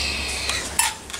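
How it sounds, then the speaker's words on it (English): Sand and plaster being stirred together in a container, giving soft scraping with a few light clinks and knocks from the mixing tool, close and fairly quiet, brief. "now I'm gonna mix the sand and plaster all together"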